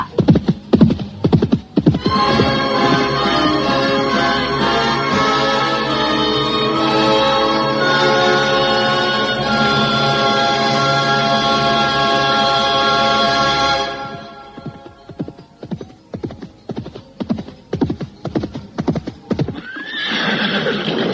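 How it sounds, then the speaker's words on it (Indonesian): A horse neighs in a long, loud whinny, then hooves clip-clop in a quick galloping rhythm that continues steadily to the end, with no talk over it. "menarik tali kekang kudanya"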